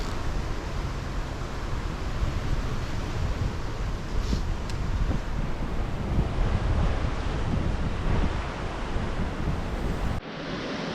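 Constant roaring wind buffeting the microphone outdoors on the shore of Lake Superior, Minnesota, loud and unbroken throughout, with a brief change near the end.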